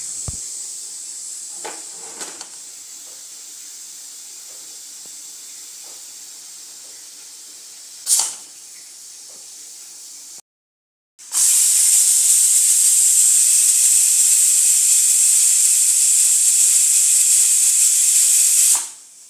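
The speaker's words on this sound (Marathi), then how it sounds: "आता शिट्टीचा आवाज." A pressure cooker cooking rice on a gas stove hisses faintly at first, then its whistle lets out a loud, sustained, high-pitched jet of steam for about eight seconds before cutting off.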